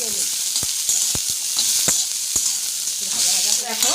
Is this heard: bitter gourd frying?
yes